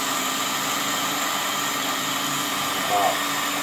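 A machine spinning at about 3,000 RPM makes a second cutting pass around the edge of a slingshot frame, a steady whirring drone throughout with a brief rising whine near the end.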